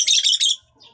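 Pet birds give a quick burst of bright, high chirps close by, a few rapid notes in under a second, then trail off into quiet.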